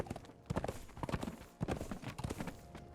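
Horse hooves clip-clop in a quick, steady trot in the video game Conan Exiles, on the Isle of Siptah, close and continuous for a few seconds with no talking.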